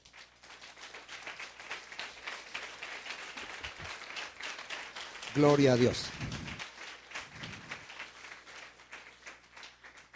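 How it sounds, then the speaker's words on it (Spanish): A church congregation at a Sunday service claps in praise, a steady spread of applause lasting throughout, with a voice briefly calling out midway over the clapping. "Da un aplauso al Señor"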